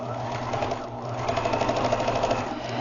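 A sewing machine stitches crazy quilt fabric, a rapid steady whirring hum with fast needle clatter close by, briefly slowing then running on with a quicker pulsing rhythm through the second half.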